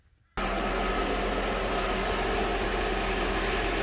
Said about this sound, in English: I'll start the car now and let it idle for a few seconds